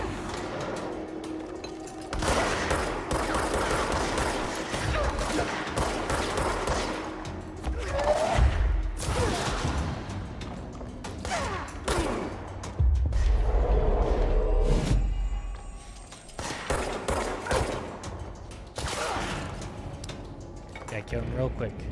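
Gunfire and a grenade blast in the video game Control: dense, loud bursts of shots and booming impacts in clusters, with someone talking over the combat.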